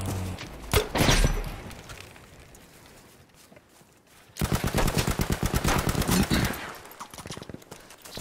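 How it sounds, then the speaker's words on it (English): Machine-gun fire in Battlefield V: a short burst at the start, a quieter stretch, then a long rapid volley of close, loud shots that trails off. "Somebody else is shooting me?"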